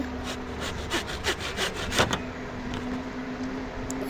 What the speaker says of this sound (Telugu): మనకి రంపం దొరికింది కదా, ఇది కట్ అయిద్దాం చూద్దాము టేప్